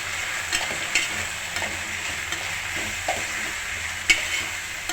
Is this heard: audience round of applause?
no